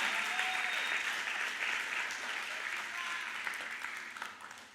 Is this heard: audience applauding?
yes